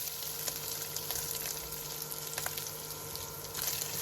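Shrimp fry in hot oil in a pan with onions, giving a steady, close sizzle with small crackling pops that continue evenly without pause.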